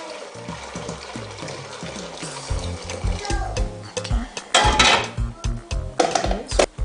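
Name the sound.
washing pigeon peas in water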